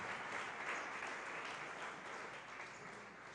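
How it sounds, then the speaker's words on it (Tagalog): A church congregation claps loudly together, a dense continuous wash of many hands applauding, fairly distant and steady throughout. "Lahat ng gustong maging matagumpay sa buhay, pumalakpak ng malakas sa ating mahal na Panginoon"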